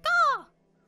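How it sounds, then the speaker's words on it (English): A single loud, close crow caw from the Child of Light video game on PS4, a sharp raspy call lasting under half a second, followed by near silence. "Look at these crows."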